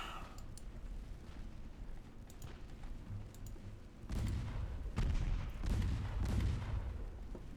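Warship guns boom repeatedly in the naval battle game Ultimate Admiral Dreadnoughts, with several heavy, rumbling salvos clustered in the second half over a steady low background.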